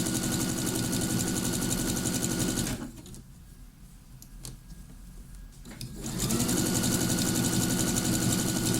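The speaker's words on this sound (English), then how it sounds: "I'm using a small little zigzag, and then I'm just going to stitch that in place all the way around." A sewing machine runs a small zigzag stitch around a jersey waistband with elastic on a circle skirt, a loud steady mechanical whir that pauses for about three seconds in the middle and then resumes, with no talking.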